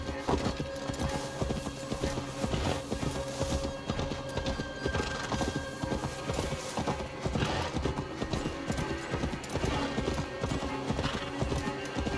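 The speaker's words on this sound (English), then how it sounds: "Now to deliver Magni his horse." Horse hooves clip-clop steadily in Assassin's Creed Valhalla, a close rhythmic trot with occasional whinnies over a layered game music and ambient bed, and someone speaks briefly.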